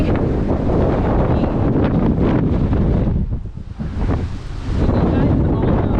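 Strong wind buffeting the microphone on the island of Naxos, a loud continuous roaring gust that briefly drops away before surging back.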